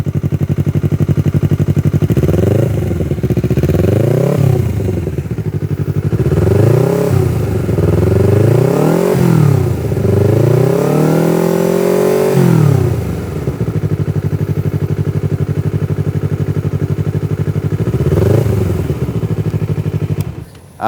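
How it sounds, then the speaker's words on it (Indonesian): A Honda CBR250RR with a custom exhaust fitted with a dB killer revs repeatedly, the engine sweeping up and back down in loud close blips, including one longer pull, over a steady idle. "Terus gua ngerasa ini knalpot nggak mau yang bising banget, jadi gue pakai DB Killer, walaupun kecil tapi adem. Nanti kita dengerin suaranya."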